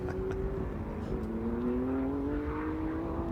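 Porsche GT race cars at Sonoma Raceway during a GT World Challenge America race, engines droning steadily with a rising pitch as they accelerate, loud and continuous, with several cars blending together and no talk over them.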